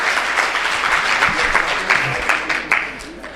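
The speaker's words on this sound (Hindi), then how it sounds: "एक बार जोरदार तालियां आपने खुद के लिए बजा दी।" An audience at a Hindi comic poetry show claps steadily for a few seconds, a dense, moderately loud burst of applause that fades slightly toward the end.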